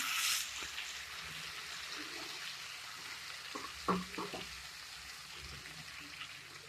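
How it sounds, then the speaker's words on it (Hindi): Tomato and onion paste frying in a pan with sautéed garlic for a brinjal masala: a loud burst of sizzle as it hits the oil, then a steady hiss with a few close stirring scrapes midway and no talking. "थोड़ा सा इसको फ्राई करेंगे ताकि इसका पानी खुश्क हो जाए।"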